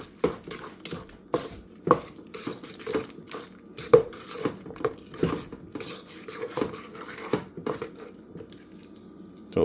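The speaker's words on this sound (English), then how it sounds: "Then I'm going to cream this. I'm just going to incorporate the sugar," Butter, sugar and egg creamed by hand in a mixing bowl for cinnamon raisin bread, giving repeated scraping clinks and soft thuds of a utensil against the bowl in an irregular rhythm, close and fairly loud.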